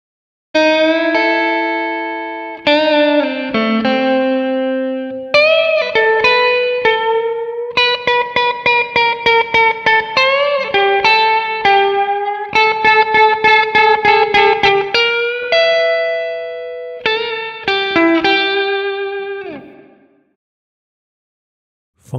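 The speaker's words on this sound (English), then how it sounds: "adjusting the reverb hall size based on the note lengths" Clean synth or guitar notes of varying length, with the reverb tail growing larger on long held notes and tighter on short ones; no talking.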